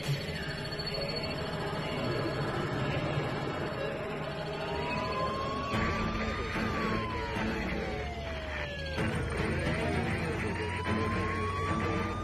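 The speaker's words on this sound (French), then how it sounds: "Eichner et Jones entendent la sirène des patrouilleurs et ils quittent les lieux à toute allure." A police patrol car siren wails and sweeps up and down in pitch over a steady rumble of traffic and engine noise, fairly loud and continuous.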